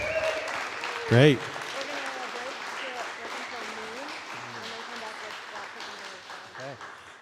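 An audience applauds performers at a morning recital, sustained clapping running under a man's speech, moderately loud and steady.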